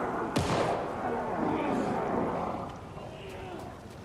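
Gunfire in the Alan Wake 2 video game, a sharp close blast followed by rumbling, echoing reports over a murky ambient background.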